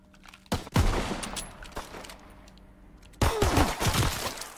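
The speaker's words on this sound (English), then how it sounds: "Oh, she got that little machine gun." Bursts of machine gun fire from a Call of Duty WWII match, loud, sharp volleys opening near the start and returning heavier at the end, with a quieter stretch of background noise in between.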